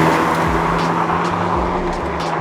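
Honda Civic Type R FL5 with its turbocharged K20 engine being driven hard through mountain corners, a loud, close, continuous engine drone with a steady tone and slight rumbling variations, no talk.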